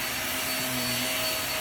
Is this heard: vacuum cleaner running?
yes